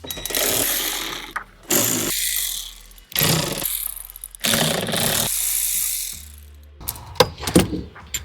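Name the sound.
ratchet removing 8mm hex-headed screws from BMW C-pillar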